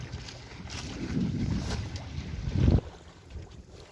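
Steady east wind buffeting the microphone aboard a sailboat, with water rushing past the hull and a louder gust swelling briefly near the end.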